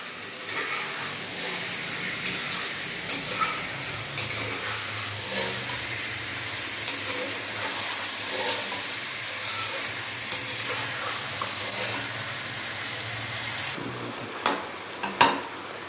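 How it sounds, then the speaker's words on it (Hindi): Chicken frying in hot oil in a kadhai, a steady close sizzle and hiss with occasional stirring scrapes and small pops, no voices. "चिकन डालने के बाद अभी मैंने चिकन को ऑयल के अंदर 3 से 4 मिनट अच्छे से भून लिया।"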